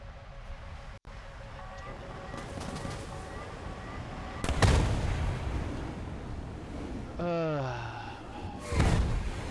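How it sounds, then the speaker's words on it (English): Guided bombs exploding in the War Thunder video game: several sharp booming blasts spaced a few seconds apart over a busy background of game noise, with a sweeping descending whistle before the last blast. "Those were smart bombs. Those were guided bombs."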